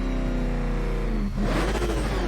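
Batmobile engine in Batman: Arkham Knight revs loud and close, a steady growling drone that dips briefly then surges into a harsher, brighter roar, with no voices.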